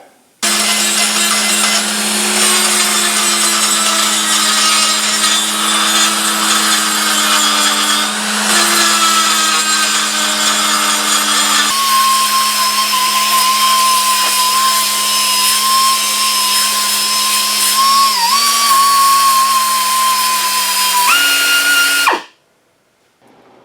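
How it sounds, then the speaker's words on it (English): A die grinder cuts away material from a steel base plate with a loud, high, sustained whine that holds for about twenty seconds, shifts pitch slightly partway through, then cuts off abruptly. "I'm going to die grind this, and then I will sand it."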